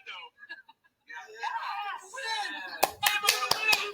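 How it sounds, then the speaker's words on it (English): A small audience claps in a brief burst of sharp, close hand claps near the end, after a moment of excited voices and cheering talk. "I got a clap for that."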